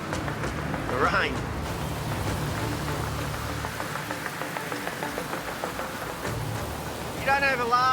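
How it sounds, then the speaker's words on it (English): Hail and rain hammer a lobster boat at sea, a steady dense patter on the deck and surfaces, with brief high tonal squeals and voices heard in between. "Oh, fucking hail!"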